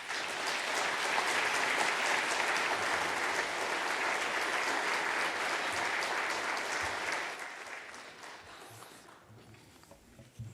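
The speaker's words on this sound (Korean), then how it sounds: "우리 나오실 때 우리 큰 박수로 우리 맞도록 하겠습니다." Sustained applause from an audience welcoming a guest speaker at a church service, steady and dense for about seven seconds before tapering off into scattered claps and quiet.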